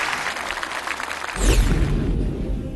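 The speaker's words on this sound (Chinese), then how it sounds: "把掌声送给他" A studio audience at a televised Yue opera talent show breaks into applause, a soft patter that swells into fuller, louder clapping partway through the short burst.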